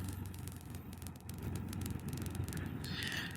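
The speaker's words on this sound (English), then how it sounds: "And there is a little wind." Wind rushes past while riding a Can-Am Spyder F3-T three-wheeled motorcycle on Highway 395 in the high desert, a steady low roar of buffeting with road and engine noise blended in, no voices.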